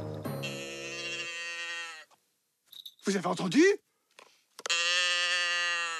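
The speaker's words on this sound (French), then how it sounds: "Ça fait un bruit de vache." A cow's moo, given in a children's Christmas story about Santa and his elves, comes as long harmonic calls at the start and again near the end, with a brief spoken question in between.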